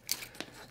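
Scissors snipping through costume boning, two short close crunching cuts about a third of a second apart, faint and alone.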